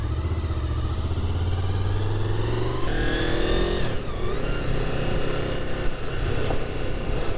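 A Honda VFR800Fi motorcycle engine revs in third gear, a loud steady drone that climbs in pitch, dips briefly around the middle, then pulls on again close by.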